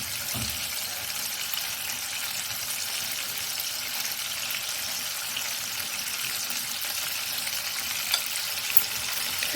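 Minced meat cutlets frying in a pan, a steady close hiss and sizzle of hot oil throughout with a couple of faint clinks, no talking.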